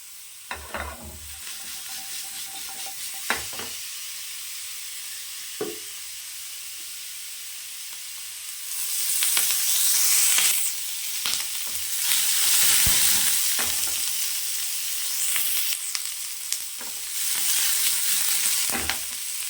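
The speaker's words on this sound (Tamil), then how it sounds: "நல்லா வதக்கிக்கலாம் அந்த வெங்காயத்தை" Sliced onions fry in oil with cinnamon, cloves, fennel seeds and curry leaves for a mutton gravy, a steady sizzle broken by spoon scrapes that swells into a louder, brighter hiss partway through as the stirring continues.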